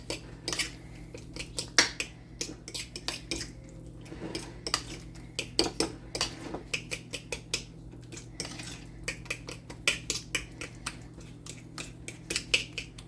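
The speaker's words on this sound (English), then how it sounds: "I'm going to mix a little bit of sour cream with that" Metal utensil clinking and scraping against a bowl while sour cream is mixed in a kitchen, a steady run of light, close taps and clicks over a faint background hum, no voices.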